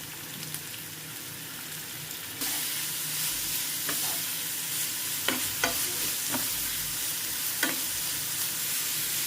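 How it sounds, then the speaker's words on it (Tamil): Carrot and cabbage sauté in a pan: a steady close sizzle and hiss that jumps louder a couple of seconds in, with a few sharp scrapes of a stirring spoon against the pan. "எல்லாத்தையும் சேர்த்துட்டு நல்லா வதக்கி விட்டுறணும்."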